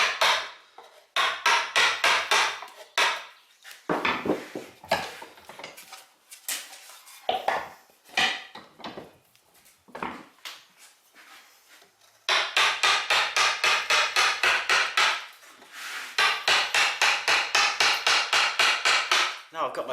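Repeated mallet blows on a number 2 chisel gouge roughing out a wooden scallop shell, sharp knocks in bursts, then steady rapid rhythmic strikes, close and loud.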